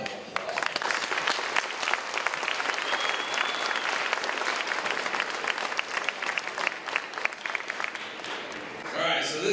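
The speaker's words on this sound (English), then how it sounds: "So please give them a round of applause." An audience claps for the staff who set up a school event, with dense, sustained applause and faint crowd murmur fading out near the end.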